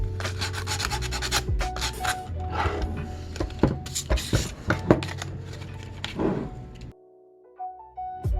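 Rust and debris are scraped and rubbed off the terminals of an EE8 field phone in quick, close, scratchy strokes that stop near the end, leaving a short quiet hum.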